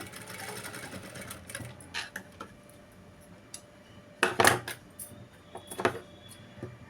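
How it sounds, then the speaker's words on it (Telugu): Sewing machine stitching a lined blouse with piping, heard as short, fairly faint bursts of running with ticking and clinking handling noises between them. "చాలా ఈజీగా స్టిచ్చింగ్ చేసుకోవచ్చు లైనింగ్ బ్లౌజ్ అండ్ పైపింగ్ తోటి"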